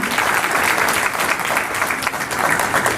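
Audience applauding a guest taking a seat on stage, a steady, dense wash of clapping from a sizable crowd, close and fairly loud throughout without talk over it.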